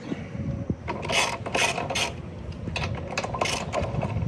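A hand ratchet works loose the bolts on a planter gauge wheel during a depth handle install, giving repeated close metallic clicking bursts in quick runs over a steady background hum.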